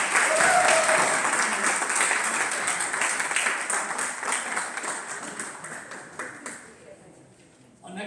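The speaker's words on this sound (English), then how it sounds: "Big round of applause." A meet-the-candidates civic association event crowd applauds steadily and loudly, fading toward the end with faint voices underneath.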